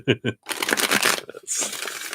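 A deck of cards is shuffled during a tarot reading session, riffling in a dense burst after two short spoken syllables, then a brief pause before a second flurry.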